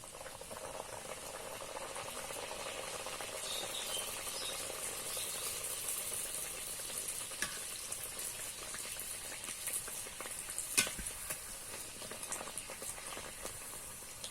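Naan frying in hot oil, a steady close sizzle and bubbling that runs continuously without talk.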